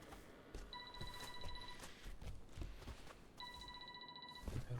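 A phone rings in the horror video game Oneirophobia. Two bursts of a faint, steady electronic trill are separated by a short pause, with soft rustling and ticking underneath.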